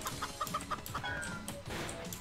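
A video game chicken clucks in a quick run of short, bright clucks, close and clear with no talking over it.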